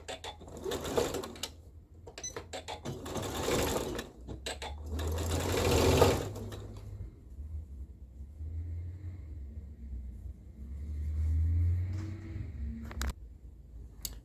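A sewing machine runs in several bursts of rapid mechanical stitching along a 5/8 seam, separated by pauses where a low rumbling hum continues in the background.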